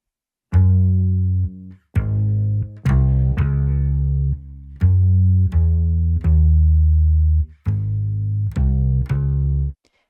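Two layered synth bass parts for a remake play together in short sustained notes with brief gaps, alone and moderately loud, one panned slightly left.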